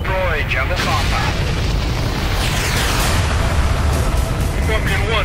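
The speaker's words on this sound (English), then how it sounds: "Release GPS guided bomb, strike, and destroy jungle compound." A GPS-guided bomb strikes a jungle compound, producing a loud, sustained rumbling blast roar that fills the entire clip without letting up.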